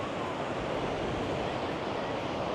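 Choppy, storm-churned ocean surf at Navarre Beach under a double red flag, a steady loud wash of breaking waves with wind noise across the microphone and no talk.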